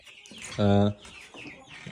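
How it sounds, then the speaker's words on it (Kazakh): A domestic hen in a backyard coop gives one short, loud, throaty cluck at close range, surrounded by quieter background chatter and farmyard noise. "Сосын екі домашний тауық бар."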